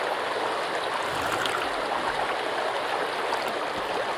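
Steady stream water rushing and gurgling in the Sons of the Forest survival game while the player drinks, a continuous broadband flow at close range with no talk.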